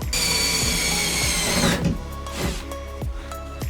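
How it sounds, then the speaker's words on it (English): A power drill bores pilot holes into the metal roof of a camper van, with a steady high whine for nearly two seconds, then short bursts of drilling and clicks as the bit bites. "Once you make the 4 dots, you can start drilling your pilot holes"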